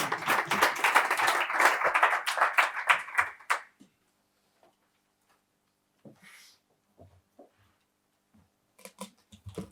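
Audience at a Spanish insolvency-law course opening and awards session claps to welcome a speaker, a dense burst lasting a few seconds before fading to near silence with faint shuffles and small knocks.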